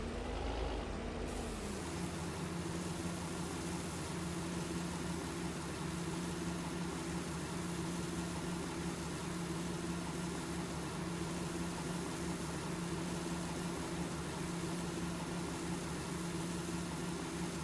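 A tractor engine runs steadily in Farming Simulator, a loud, continuous drone with a fixed low hum that settles after a brief shift at the start and carries on unbroken without speech.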